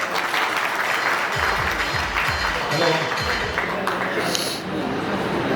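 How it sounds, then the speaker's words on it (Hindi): Hearty audience applause at an annual general meeting of a cloth traders' association in Surat, a thick sustained wash of clapping from a large crowd with some voices mixed in. "इनकी दोबारा बहुत तहे दिल से तालियां बजा के सम्मान किया"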